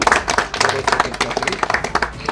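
An audience at an honouring ceremony claps to welcome a guest to the stage, a short burst of dense, close applause lasting the whole moment.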